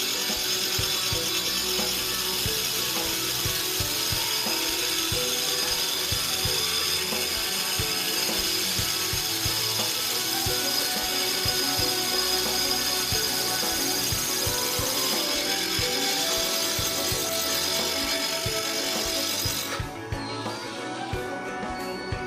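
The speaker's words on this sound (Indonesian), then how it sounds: "Untuk melanjutkan itu putaran bor yang sangat pelan aja." A power drill runs at low speed with a continuous whir and irregular ratcheting, grinding clicks for a long stretch, loud and close, while making a slingshot fish spear.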